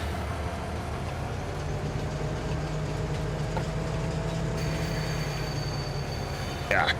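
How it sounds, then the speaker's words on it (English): A train in the video game Farming Simulator 25 rolls past with a steady low rumble and a sustained hum, a faint tonal whine joining partway through, then a brief louder burst at the end. "Train."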